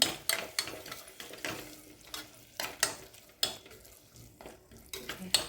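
Green peas sev usal with tomato puree being stirred in a pan: repeated scraping and clinking of a spoon against the pan in an irregular rhythm over a soft, steady sizzle, close and moderately loud, with no talking.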